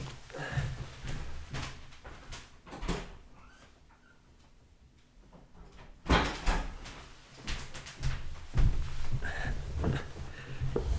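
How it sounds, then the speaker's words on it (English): A household door is opened with a muffled clunk and handle rattle, followed by sliding and shuffling sounds close by in a quiet indoor room. "Can open the door."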